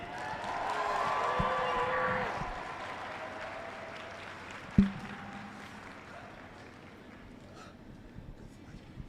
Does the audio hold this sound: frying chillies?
no